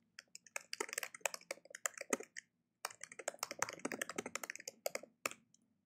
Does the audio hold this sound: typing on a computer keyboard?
yes